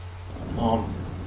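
Rain falls steadily in the video game The Legend of Zelda: Wind Waker, a constant close hiss with a brief soft tonal swell in the middle.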